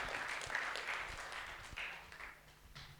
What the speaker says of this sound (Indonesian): tepuk tangan yang meriah untuk narasumber kita